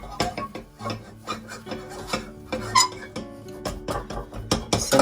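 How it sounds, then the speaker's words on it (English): Churro dough being stirred with flour in a pot, repeated scraping and rasping strokes of a spoon against the pot bottom in an irregular rhythm, close and fairly quiet with occasional squeaks. "keep stirring in both directions until you don't see any dry flour anymore, nowhere."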